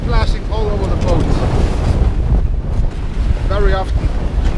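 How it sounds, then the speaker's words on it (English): Rough North Atlantic seas crash and splash over a sailboat in heavy four-to-five-metre waves, with strong wind buffeting the microphone throughout; short bursts of voice-like tones rise above the roaring wash near the start and end. "The water is just splashing all over the boat"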